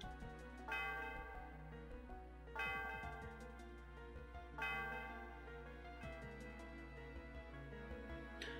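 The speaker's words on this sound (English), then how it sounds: "Some of the bell reverberates through the area." The Celestial Tower bell in a Pokémon Black game rings four times at steady intervals, each strike bright and resonant, fading slowly over a low, quiet hum.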